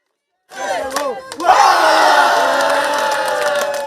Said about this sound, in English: The announced wrestlers come out with all the swag and cheering from their supporters